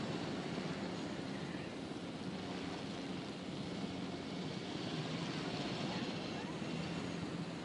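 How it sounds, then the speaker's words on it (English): Helicopter flying in the video game Jurassic World Evolution, a steady dense whooshing roar of rotor and engine that holds even and faint throughout with no breaks. "It is very interesting seeing from the helicopter's perspective"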